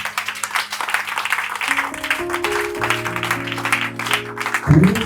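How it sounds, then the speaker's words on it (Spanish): Applause from a church congregation for Christ, a steady wash of many hands clapping that fills the space, while a sustained organ or keyboard chord swells beneath it and grows louder at the end. "Denle un aplauso a Cristo."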